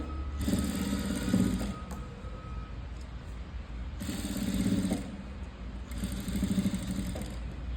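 A sewing machine stitches thread piping, running in three steady whirring bursts with short pauses between them. The motor's rapid needle clatter is close and fairly loud, and no one speaks.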